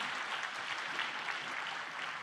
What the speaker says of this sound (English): A round of applause to all the presenters.